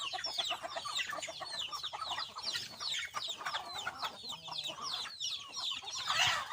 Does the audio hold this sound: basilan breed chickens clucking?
yes